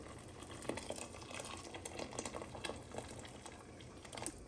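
Hot water pours into a pot of softened vegetable broth for a vegetable soup. It makes a steady, moderately loud splashing and bubbling wash with small irregular splashes and no speech.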